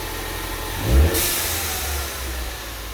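A 2015 Ford Mustang EcoBoost fitted with a blow-off valve revs once up close, a sharp rise at about one second followed by a hissing release and a steady idle afterward.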